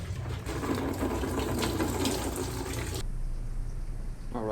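Coolant drains from the drain plug of a Chevrolet Silverado K1500 with a 5.7L engine, a steady close splashing gush that thins to a quieter trickle partway through.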